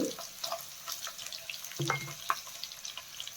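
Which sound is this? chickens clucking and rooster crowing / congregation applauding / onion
onion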